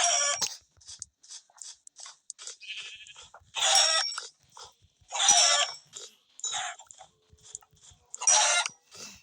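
Sheep bleat in a Minecraft-style video game, a string of nasal, wavering calls in short bursts of varying length that repeat steadily and fairly loud, with no talk.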